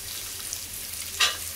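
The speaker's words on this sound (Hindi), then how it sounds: "अभी इसमें हम गाजर डालेंगे।" Carrots go into onion and tomato already frying in a pan for a potato, pea and carrot curry: a steady oily sizzle, briefly louder and sharper as they drop in, with no voices.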